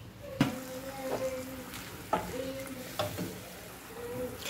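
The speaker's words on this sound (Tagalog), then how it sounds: "Pakuluan nga lang din natin yan ng ilang minuto pa at pwede na yan" Squid adobo in a pan, cooking in soy-based sauce before vinegar, green chili and bay leaves go in, with a steady low bubbling and sizzle broken by a few louder clinks or stirs.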